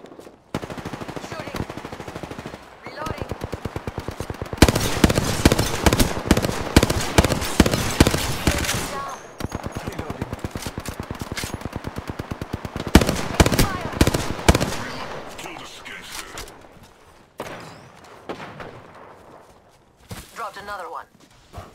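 Gunfire from an Apex Legends match: long rattling bursts of rapid automatic fire at close range, broken by short pauses and a few single shots, with a voice talking over parts of it.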